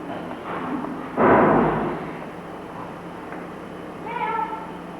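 A cat lets out a loud, drawn-out meow close by, followed a few seconds later by a softer, shorter meow.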